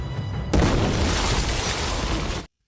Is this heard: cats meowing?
no